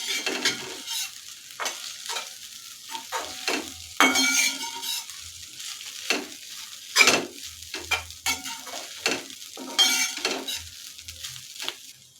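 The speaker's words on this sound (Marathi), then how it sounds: "आता मी ते भिजवून घेतलेले पोहे घेतले आहेत ते याच्यामध्ये टाकते हे सर्व आपल्याला व्यवस्थित मिक्स करायचं आहे" Soaked poha is stirred into spicy Puneri misal in a pan, making repeated close scraping strokes over a gentle sizzle, with occasional light clinks of the utensil against the pan.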